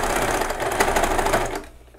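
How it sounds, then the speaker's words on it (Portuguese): A sewing machine stitches a blazer sleeve into the armhole, a steady close whirring run that stops abruptly near the end, leaving a quiet tail. "agora que eu costurei a minha manga na cava"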